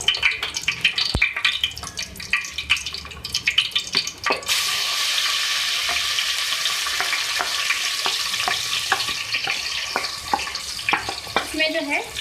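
Masala of garlic, turmeric, chili and coriander powder sizzles steadily in hot oil, with stirring scrapes and clinks at first, then a dense continuous fry after water is added, no talking.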